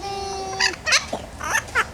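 A pet bird makes a run of short, bright squawks and chirps in quick bursts, close and fairly loud over a steady indoor hum, with no speech.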